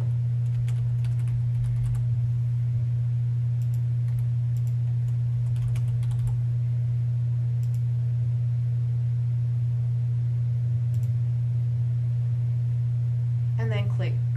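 Typing on a computer keyboard, bursts of quick soft clicks close by over a constant low electrical hum, with a short spoken phrase near the end.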